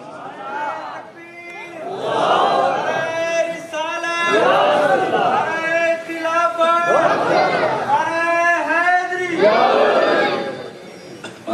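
A crowd at a religious sermon gathering loudly chants religious slogans in unison, with rhythmic rising shouts repeated in bursts that fill the whole stretch.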